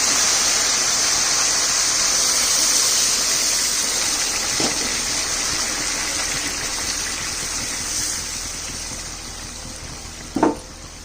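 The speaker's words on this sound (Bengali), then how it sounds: "আমি পাঁচ কাপ জল দিয়ে দিই" Five cups of water poured into a pot of rice for basanti pulao, a steady loud gushing stream running nearly continuously, then a couple of brief knocks near the end.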